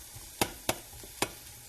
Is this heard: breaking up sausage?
yes